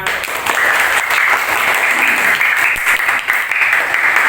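Participants in an academic coaching session applaud loudly, a full and continuous wash of many hands clapping from start to finish.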